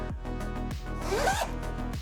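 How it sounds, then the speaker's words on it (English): The long waterproof zipper on the front of a Wandrd Prvke V4 camera backpack is pulled in several quick, close rasping strokes, each a short scratchy burst, with no talking. "This long vertical zipper, which has a waterproof seam on it, a waterproof zipper, which is pretty cool for being such a big zipper."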